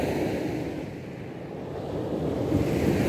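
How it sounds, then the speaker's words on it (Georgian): The rough sea surges in a steady, loud, low roar of breaking waves that swells slightly toward the end, with some wind noise and no voices. "ზღვას, როგორ ღელავდა, აი ამ ხმას ნახეთ"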